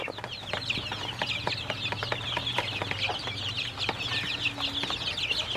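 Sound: Sonali laying hen clucking

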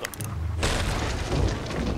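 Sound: cannon firing in a video game

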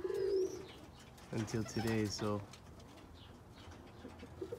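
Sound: roller pigeons cooing

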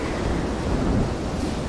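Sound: storm wind and waves at sea in Silent Hunter 3 video game

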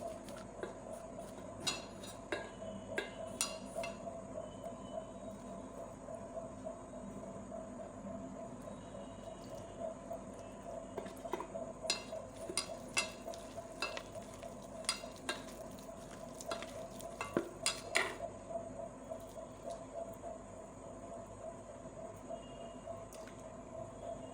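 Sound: mixing flour batter by hand with water

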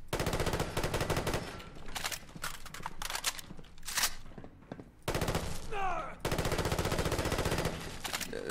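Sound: FAMAS rifle firing, Fallout 4 mod, video game

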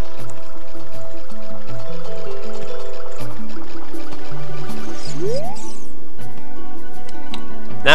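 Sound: Link diving underwater in Ocarina of Time video game

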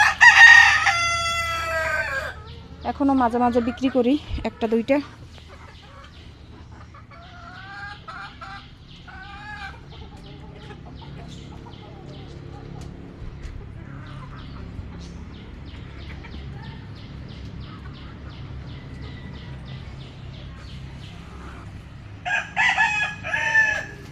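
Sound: chickens clucking and crowing outdoors

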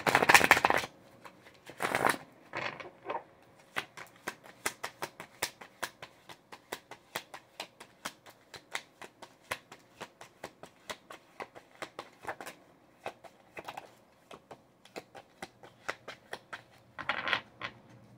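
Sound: shuffling tarot cards

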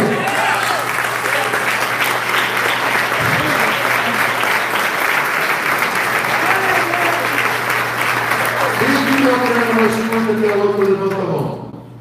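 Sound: church congregation applauding

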